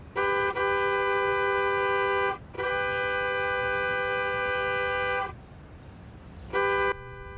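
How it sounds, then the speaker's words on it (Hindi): A car horn honks in long, loud blasts, two extended ones followed by a shorter one, close by with a quiet engine hum beneath. "यार 10 मिनट से हॉर्न बजा रहा हूँ"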